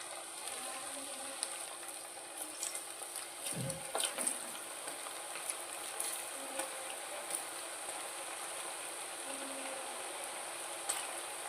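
Cauliflower pieces sizzling in hot oil in a pan, a steady, even frying hiss with small crackles and a brief bubbling surge as more pieces drop in.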